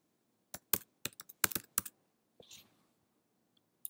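Someone types on a computer keyboard during a software demo: a quick irregular cluster of sharp, close key clicks, then a short softer rustle and near silence, with one final isolated tap at the end.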